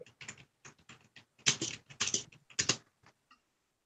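Bursts of brisk typing on a computer keyboard, a dense run of close, crisp keystrokes that rise to louder clusters in the middle and then stop abruptly, with no talking.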